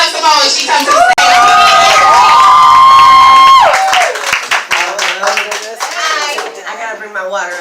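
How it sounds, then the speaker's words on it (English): At a lively open mic poetry show, an audience claps and cheers loudly, with high whoops and screams soaring above steady applause that thins out into scattered clapping and chatter near the end. "Y'all better clap it up some more when she comes to the stage"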